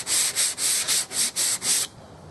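Rhythmic back-and-forth sanding strokes on a canoe hull before gel coating, seven passes with a gritty hiss, close and loud, then stopping abruptly.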